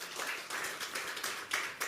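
Audience clapping at a smartphone manufacturing summit in Africa, a steady patter of many hands under about two seconds with no voices.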